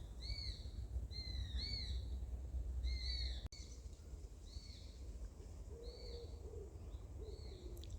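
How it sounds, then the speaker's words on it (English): An owl calls in the woods: soft, low hoots surface faintly near the end, beneath repeated high chirps from small birds and a steady outdoor hiss. "I'm sure I heard an owl there doing to wit to woo"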